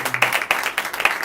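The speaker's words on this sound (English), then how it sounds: "Please give them a round of applause." A live bhajan gathering breaks into a round of applause, brisk, dense clapping from a crowd heard close and fairly loud, with a faint lingering tone underneath.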